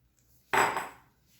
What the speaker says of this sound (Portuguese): Agora eu vou misturar a farinha com o chocolate.